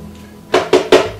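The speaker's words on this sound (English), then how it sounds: "I'm going to stir the edges a little bit to make sure that everything gets incorporated" Cheesecake batter is stirred around the edges of a bowl, making three quick scraping, clinking strokes of a utensil against the side, close and fairly loud, with no talking.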